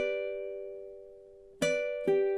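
A ukulele plays measure 5 of The Office theme, a sustained strummed chord ringing and fading, then two fresh strums about half a second apart, close and clear with no voice.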